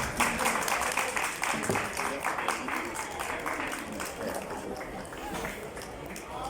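An audience at a poetry reading applauds the invited poet with steady, dense clapping that holds at an even level throughout, moderately loud and close, with no break.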